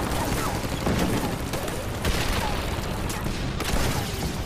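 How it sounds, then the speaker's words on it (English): Battlefield gunfire and explosions with tanks firing at close range in a night tank battle, a dense, continuous roar of overlapping shots and booms with no pause, loud and near throughout. "Explosions and shell bursts illuminate the battlefield. With tanks firing at point-blank range,"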